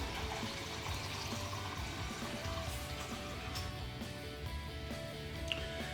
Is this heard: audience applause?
no